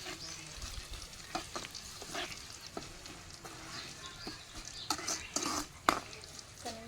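Tempering spices sizzle in hot oil in a pan for tomato chutney, a steady low frying hiss broken by sharp clinks and scrapes of a spoon stirring against the pot.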